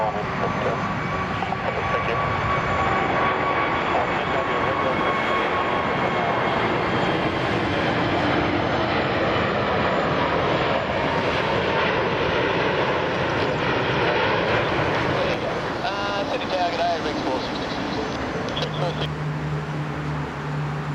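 Heavy jet airliners taking off at Sydney Airport in the morning, a loud sustained engine roar with whining tones, and a radio voice talks over the end.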